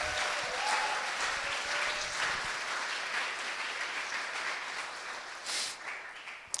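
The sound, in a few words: applause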